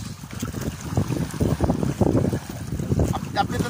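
Strong amihan wind gusting at sea around a small fishing boat, roaring and buffeting the microphone in uneven bursts over water and wave noise.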